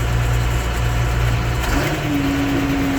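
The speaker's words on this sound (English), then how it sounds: "It's a good running tractor." A big tractor with a 426 engine idles steadily nearby, a loud, even low rumble that shifts slightly in pitch partway through as the engine note changes.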